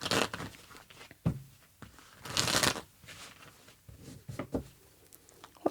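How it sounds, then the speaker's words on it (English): Tarot cards being shuffled close up in several quick riffling bursts separated by short pauses, soft and papery. "One more shuffle."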